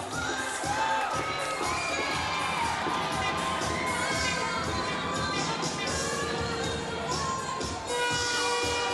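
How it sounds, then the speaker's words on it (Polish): A crowd at a women's under-19 floorball match between Latvia and the Czech Republic cheers, whoops and shouts continuously, loud and dense with high-pitched voices throughout. "Dajmy je brawa!"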